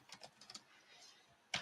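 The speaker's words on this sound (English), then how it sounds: "I'm typing out a message." Computer keyboard keys clatter in a few quick taps, then a pause and one louder keystroke, quiet and close in a podcast studio.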